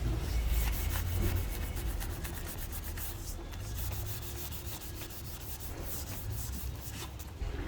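Steady hand sanding of a custom-painted metalflake Harley motorcycle tank with 600-grit paper, a continuous close rubbing scrape with rhythmic back-and-forth strokes and no talking.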